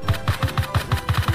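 Scar Light-S BaiHu rifle in the CrossFire video game, fired in quick bursts from a crouch: about nine sharp, evenly spaced shots in rapid rhythm, loud and close, with no talking.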